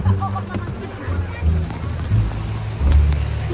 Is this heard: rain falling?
yes